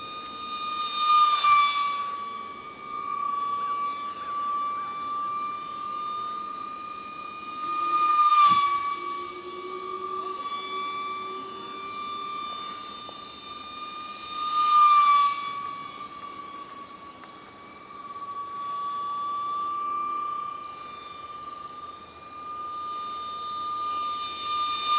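An ultra micro RC Eurofighter model jet with vectoring thrust flies low and gives off a thin, high, steady motor whine that swells three times as it sweeps close past and then recedes, with no talking.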